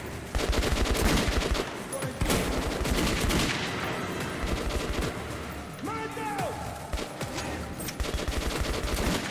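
Rapid bursts of gunfire in a Metro video game, loud and dense, with automatic shots rattling on through most of the stretch and a voice speaking briefly among them.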